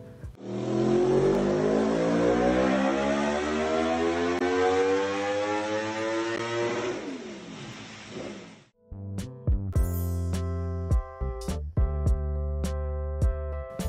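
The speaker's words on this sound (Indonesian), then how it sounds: "daya tarik Yamaha R1 adalah suara khas dari mesin crossplane-nya" A Yamaha R1 with its crossplane four-cylinder engine holds a long, loud sustained rev, drops to idle, then fires off sharp repeated throttle blips close by, with no talk over it.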